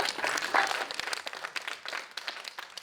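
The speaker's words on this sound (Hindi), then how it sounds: "ये जोरदार तालियां" An audience at a Jain monk's religious discourse claps together in a dense burst of applause that loosens into scattered claps as it fades.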